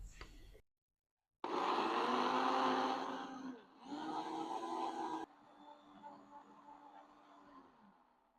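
Kitchen blender whirring through ingredients for a green recipe, two loud motor bursts separated by a brief pause, then a quieter lower hum as it runs down.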